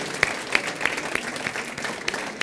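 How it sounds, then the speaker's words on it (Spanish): Scattered hand claps ring out at a gastronomy event after chef Tajiri's tuna-carving demonstration, a few sharp, separate claps over a low room murmur. "yo pediría un aplauso para Tajiri,"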